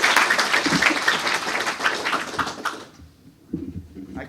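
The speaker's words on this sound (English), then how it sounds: "give a round of applause to the staff in the" Staff in a lab applauding, a dense burst of clapping for nearly three seconds that drops off abruptly, leaving a few scattered claps and faint low sounds at the end.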